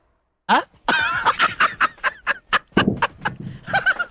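Several loud honking quacks come in a quick, uneven series, close by and harsh, like a duck or goose calling repeatedly.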